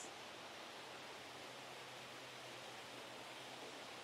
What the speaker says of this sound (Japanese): めちゃくちゃ水の音もしてかなり癒されますね。